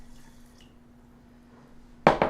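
A cup of water is poured into rice in a pot on a stovetop, arriving as a short, loud splashing rush right at the end after a quiet stretch with a faint hum.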